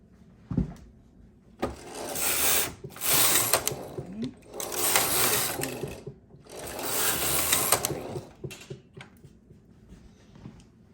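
A knitting machine carriage slides back and forth knitting rows for mittens, making three long mechanical whirring passes with clicks and a sharp knock between them, close and clear.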